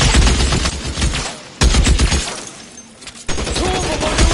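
Bursts of gunfire in the video game L.A. Noire, loud volleys of rapid shots in three dense clusters separated by brief lulls, with no talking.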